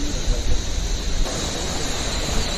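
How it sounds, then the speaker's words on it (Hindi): Waterfall stream tumbling near Kalpeshwar temple in the Himalayan hills, a loud close steady rush of falling water that holds constant throughout. "और ये झरने की धारा"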